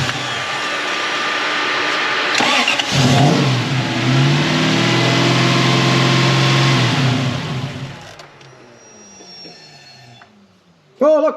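A Toyota 1UZ V8 engine in a Surf with faulty coil wiring cranks and runs, a loud sustained roar that rises and holds before cutting off, leaving faint ticking and a brief final burst.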